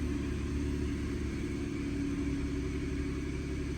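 A 2011-2016 Ford F-150 with the EcoBoost engine idles steadily, a close, continuous low rumble with an even mechanical drone and no talking.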